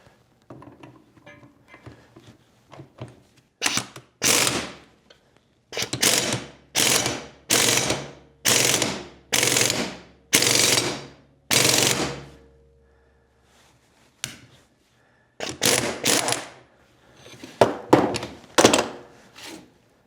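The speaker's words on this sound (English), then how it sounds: "So now we just put an impact on it and make a lot of noise." Loud impact wrench working on G-Body dual exhaust parts, firing in a run of about a dozen sharp hammering bursts with short pauses between them, plus a few quieter ratcheting clicks at the start and end.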